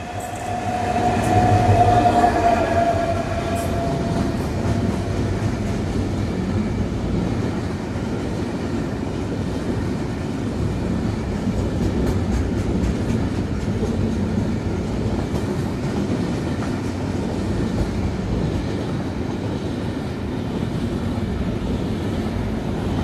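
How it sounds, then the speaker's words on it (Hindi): A down freight train hauled by a GMU-30SR locomotive rumbles past at close range, starting with a short horn-like tone and then a long, steady roar of wagons with faint rhythmic clatter. "ये थी एक और डाउन फ्रेट ट्रेन जो कि GMU-30SR लोकोमोटिव के साथ पास हुई"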